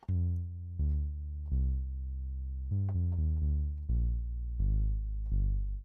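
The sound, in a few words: synthesizer bass patch with shorter decay and cutoff changes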